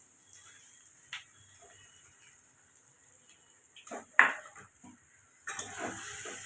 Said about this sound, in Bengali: এবার এই মশলাগুলোর সঙ্গে আমি ডিমগুলোকে ভালো করে মিশিয়ে নেব।